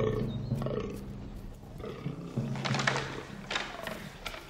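Fallow deer stags bellow in the rutting season on a misty early morning in the Slovak wild, deep grunting roars repeating at close range over steady outdoor ambience.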